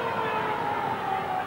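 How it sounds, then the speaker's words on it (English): The half-time siren sounds at a 1989 rugby league minor preliminary final between Canberra and Cronulla, a sustained, moderately faint tone held over distant stadium crowd noise. "There's the siren."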